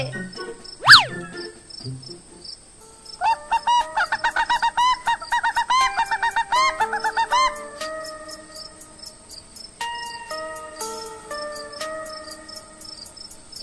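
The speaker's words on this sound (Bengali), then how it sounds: "এত রাতে মুরগি চিৎকার করছে" Chicken squawking at night, loud sharp calls with harmonic clucks in bursts over a steady background of crickets chirping, with a brief crowing-like cry near the start.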